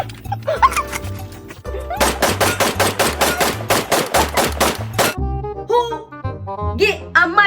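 Rapid gunfire sound effect in a Jamaican reality-show spoof, a fast burst of sharp repeated shots lasting about three seconds, loud and close, set among music with voices around it.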